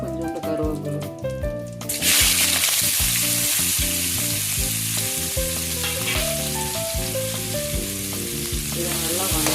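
Onions, green chilies and curry leaves sauté in a pan for South Indian mashed potato, a steady loud sizzle and hiss that swells sharply after the first two seconds, with faint stirring and background music, no talk.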